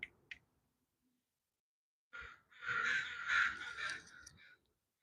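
Crows cawing from the trees directly overhead, a short call early on, then after a pause a loud burst of overlapping harsh caws from several birds lasting a couple of seconds.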